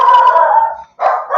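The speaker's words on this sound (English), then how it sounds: "Excuse my dog. Somebody has just arrived at the front door." A dog excited by someone arriving at the front door lets out a loud drawn-out bark-howl, then a second shorter bark after a brief gap, very close.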